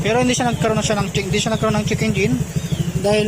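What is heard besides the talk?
None of the usual background noises is heard.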